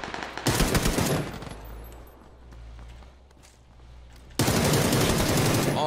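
Rapid automatic gunfire from a new weapon in PlayerUnknown's Battlegrounds, two loud dense bursts with a quieter stretch of footsteps and low rumble between them.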